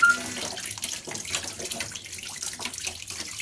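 Wheat flour dough for one chapati is washed under running water, giving a continuous moderate splashing and trickling with small irregular surges and no talk.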